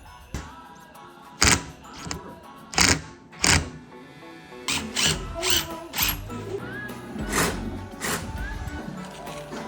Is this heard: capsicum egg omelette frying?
no